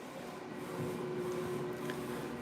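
An office printer runs steadily in a print shop, a continuous mechanical hum with a faint tonal whine, fairly quiet and alone without talk.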